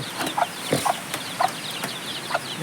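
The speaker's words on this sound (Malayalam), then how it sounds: "നമ്മളെ കോഴിക്കുഞ്ഞുങ്ങൾ ഇതാ എല്ലാവരും ഇവിടെ ഉണ്ട്" Young chicks huddled together in cold weather give a handful of soft, brief clucks and chirps at irregular intervals, fairly faint against a quiet background.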